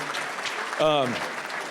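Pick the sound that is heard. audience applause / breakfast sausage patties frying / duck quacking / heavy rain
audience applause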